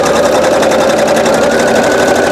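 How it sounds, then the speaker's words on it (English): A sewing machine runs fast and steady, stitching in the ditch along a beginner's quilt block, its needle rattling in a loud, even rhythm with no voices. "I'm just going to go over and stitch in this ditch and go all the way down"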